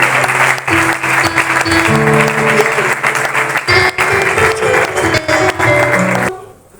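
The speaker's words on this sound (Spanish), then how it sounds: "Vamos a darle un fuerte aplauso a nuestro rey." A church congregation applauds loudly for several seconds while music with sustained tones plays along, then the sound cuts off abruptly near the end.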